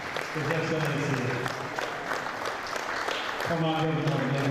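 An anniversary crowd's steady applause runs underneath, while a voice speaks over a loudspeaker throughout.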